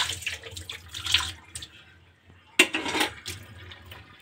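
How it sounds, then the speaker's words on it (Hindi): Water poured off a batch of soaked homemade paneer in a kitchen, splashing and running in two bursts with a pause between, close and moderately loud with no talk. "अब मैं इसे पानी गिरा दूँगी"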